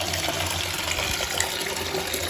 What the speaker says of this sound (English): And now, turn on the water.